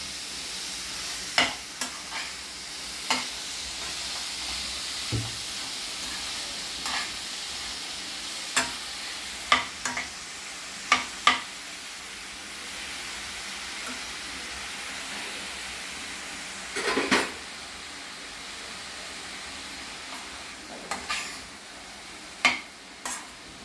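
Egg curry bubbles gently in a pan on low heat, a faint steady hiss broken by scattered soft pops and spatters throughout.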